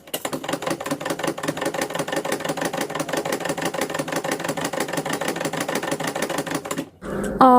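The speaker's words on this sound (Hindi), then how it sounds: "जब मैं मशीन को यहाँ पे चलाई तो इतनी तेज़ आवाज़ हो रही थी" A stiff, dry sewing machine runs steadily with a rapid, clattering mechanical rattle for about seven seconds, loud and close, then stops abruptly and is followed by a brief burst of other noise.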